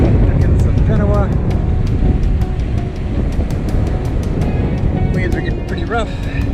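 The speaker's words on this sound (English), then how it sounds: "Waves are getting pretty rough." Rough sea waves wash around a sailboat with a reefed mainsail in about 18 knots of wind, with whitecaps and four-foot waves; a steady, loud broadband rush of water and wind runs throughout, with a few faint voice fragments.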